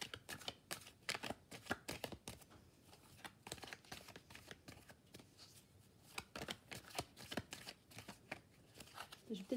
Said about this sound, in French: je vais essayer de tirer d'autres cartes pour voir ce que ça me dit en plus